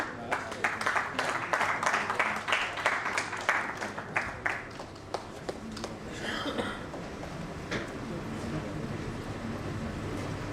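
Audience applause at an awards stage event, a burst of dense clapping that thins out and fades into a softer crowd murmur with some voices.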